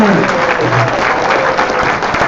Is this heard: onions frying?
no